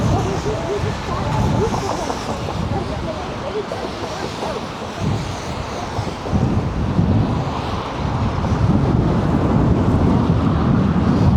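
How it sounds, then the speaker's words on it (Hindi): Strong, cold wind buffeting on a Toronto city street, a loud continuous roar and rumble of gusts hitting the microphone that swells toward the end, with faint street noise underneath. "हवा काफ़ी तेज़ है"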